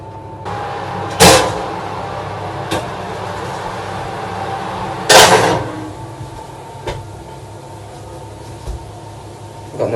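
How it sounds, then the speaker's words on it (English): A microwave oven door shuts with a sharp thud, one of two loud knocks standing out over a steady hum in a home kitchen where beans are being reheated. "Take your beans out your microwave, close the door, leave them there."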